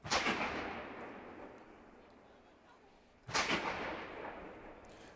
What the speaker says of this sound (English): Bright orange flashes seen through the smoke as the cannons continue to fire.